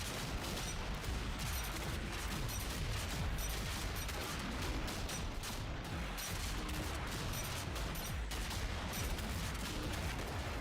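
Gunfire in the Paperhead video game, a dense, continuous barrage of loud rapid shots and booms without pause, with no talking over it.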